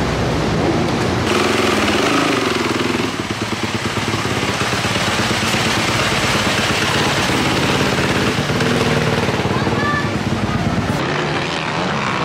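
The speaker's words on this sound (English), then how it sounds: "Go ride some dirt bikes." Motocross dirt bike engines roar at a Pro Motocross race at High Point in 2021. A loud, continuous, buzzing engine drone fills the whole clip.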